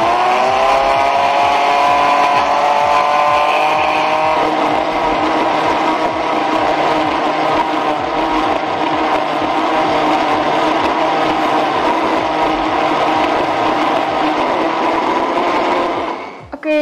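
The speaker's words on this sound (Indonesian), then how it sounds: "Ayo kita blender." Countertop blender whirring steadily as it blends Oreo cookies with milk and sweetened condensed milk into a cookies-and-cream milkshake, a loud continuous motor drone that shifts slightly in pitch around four seconds and stops abruptly at the end.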